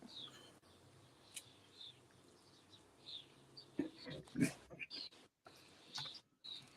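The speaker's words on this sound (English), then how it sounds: "I've got birds tweeting" Faint, scattered bird chirps outdoors over a quiet background hum, with a few brief louder knocks in between.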